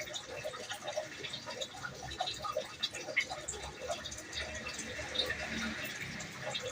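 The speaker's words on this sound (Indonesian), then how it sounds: "Ini saya mau coba atur seberapa deras tetesannya" Water drips steadily from a drip irrigation emitter watering a passion fruit plant, a quick, close, fairly continuous patter of drops that runs the whole time with no talk over it.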